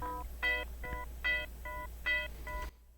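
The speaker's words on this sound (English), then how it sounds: "But this is a gated bell that I have on in the beat." A gated bell synth from a hard NY drill beat plays alone, short bright chopped bell hits in a rhythmic pattern with a steady low hum beneath, then cuts off abruptly near the end.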